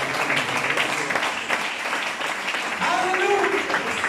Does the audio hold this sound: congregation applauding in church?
yes